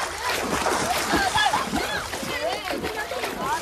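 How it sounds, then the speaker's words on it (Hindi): Rice being washed in water inside a tub, close sloshing and splattering as hands swirl the grains, with people talking over it. "वो चावल धोने जा रहे हैं"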